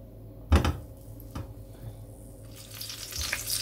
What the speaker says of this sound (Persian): خب اینا رو میچینم توی این تابه که با حرارت مناسب اطرافش رو سرخ کنم